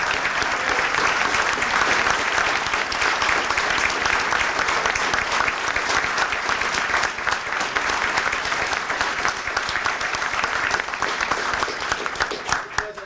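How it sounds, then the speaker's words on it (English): Sustained, loud applause at a Brockton city council meeting as a gentleman stands to be recognized, many hands clapping steadily for over ten seconds in a hall. "where is the gentleman so he can stand up and get his due applause"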